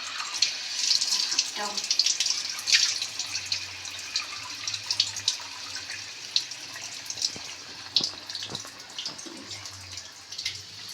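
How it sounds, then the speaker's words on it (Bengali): Water pours into a pan of cooked-down spiced masala for egg fry curry, a steady splashing, gurgling stream close by with small clinks, alone without talk. "একটু জল দিয়ে দিলাম"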